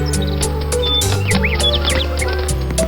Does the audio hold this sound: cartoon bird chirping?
yes